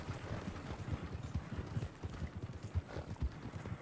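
Horse hooves clip-clopping in the video game Red Dead Redemption 2, a steady quiet trotting rhythm of soft thuds on dirt, continuous throughout with low ambient background.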